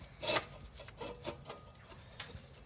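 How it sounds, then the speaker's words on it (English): A screwdriver scrapes rust off the lip of a brake disc on a 1991 Rover 216 SLi, several short, uneven rasping strokes, close and fairly quiet, with no talk. "I'll clean all the rust off the front lip of the disc. In fact, I'll do that now. Do it the old-fashioned way. Screwdriver, hub."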